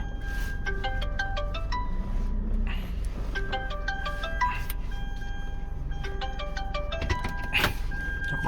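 Mobile phone ringtone sounds repeatedly in a car, a looping melodic chime of stepped beeps in three or four cycles over a low engine rumble.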